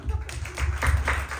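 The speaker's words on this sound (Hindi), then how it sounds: "तो पल्लव के लिए 14 ताली देंगे" An audience claps in a rapid, fairly even run of short claps in an indoor church-style gathering, close and moderately loud, with no voice over it.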